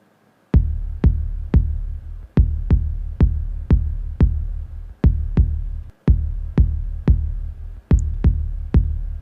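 Isolated drum track from the mix of a song: a punchy kick and snare pattern hitting in a steady, even rhythm, loud and close, with no voices.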